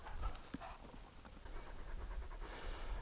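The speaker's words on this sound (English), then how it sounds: "Big dog. Come here." A big dog pants steadily outdoors in hot weather, quick rhythmic breaths running through the whole stretch against a busy outdoor background.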